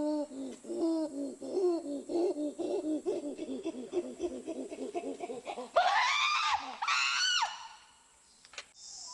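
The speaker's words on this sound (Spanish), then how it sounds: "Vamos a escuchar este grito jadeante." An animal gives a rhythmic series of breathy panting calls that speed up and climax in a few loud, shrill screams, then silence.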